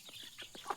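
Chickens cluck at morning feeding time on a rural Thai farm: a quick run of several soft, fairly faint clucks in under a second.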